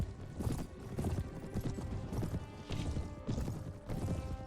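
Game horse hooves clip-clop as a mounted rider charges toward infantry in The Elder Scrolls battle setting, a steady, loud, rapid galloping rhythm of close hoofbeats lasting throughout, with faint clattering behind.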